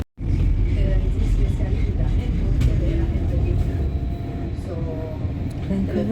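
A Vancouver SkyTrain rumbles along its track in a steady, loud running roar heard from inside, with a recorded announcement voice speaking over the noise.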